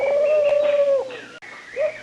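A pigeon coos close by, with a loud drawn-out tone, a brief pause, then a shorter coo at the end.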